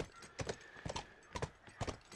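Horse hooves clip-clop in The Last of Us video game, a steady rhythmic trot of paired hoofbeats about twice a second, close and clear with no talking over it.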